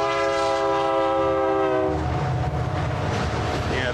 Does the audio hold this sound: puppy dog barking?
no